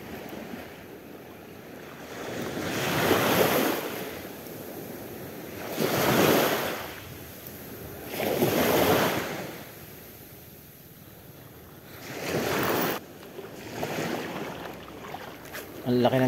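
Rough sea waves surge and crash onto a shore in slow repeating swells every few seconds while someone fishes there, with wind buffeting the microphone.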